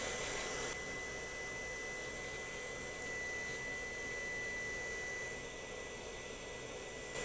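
A hot air tool blows steadily while heating a connector to unsolder its pins on a LoRa Helium amplifier board, a continuous loud whooshing hiss with a faint high whine, no talk.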